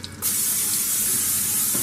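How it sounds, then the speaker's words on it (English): Spray coconut oil hissing from an aerosol can onto a baking pan, one sustained loud close-up spray starting after a short pause, no voice over it. "I'm going to spray that down with some spray coconut oil"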